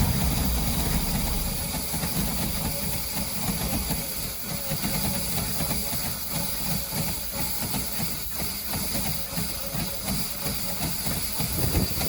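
A continuous loud spraying hiss of fogging oil sprayed into a running 5.7L MerCruiser boat engine, over the engine's low chugging rumble, steady throughout with no talking.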